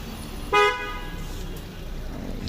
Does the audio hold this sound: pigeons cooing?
no